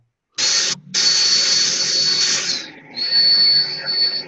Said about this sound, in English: the microphone picks up the drill better than Ryan's voice